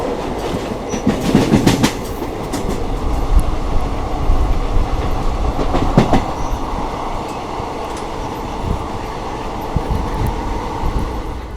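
An Intercity Express train runs between Somnath and Ahmedabad, its carriage giving a steady loud rumble with faint clickety-clack of wheels over rail joints throughout, no voices.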